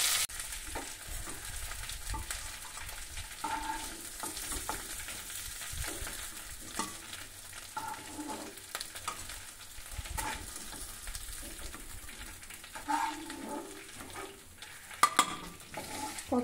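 Hilsa fish frying in a wok, a soft continuous sizzle broken by scraping stirs and occasional clinks of a spatula against the pan, fairly faint and without talk.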